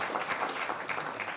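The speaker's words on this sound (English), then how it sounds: "Yes, give them a round of applause." Brief applause from an audience at a film Q&A, many hands clapping in a busy, uneven patter at moderate volume.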